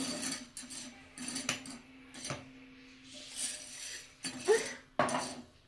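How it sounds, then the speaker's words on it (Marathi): Sago pearls are lightly dry-roasted on a griddle at home for a fasting meal, heard as intermittent light clinks, scrapes and rattles of a utensil against the pan, faint and close with short pauses between strokes. "मी इथं पहिले साबुदाणा तव्यावर हलकं भाजून घेते"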